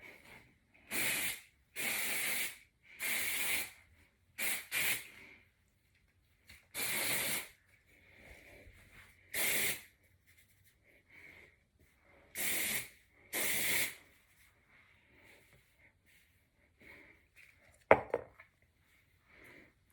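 An aerosol can of dry shampoo hisses onto hair in a series of short sprays, about a dozen bursts of a second or two with quiet pauses between, close and sharp.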